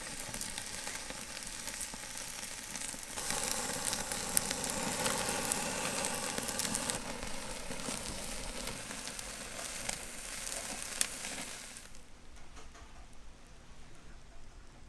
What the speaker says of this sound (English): we're going to sear it off right there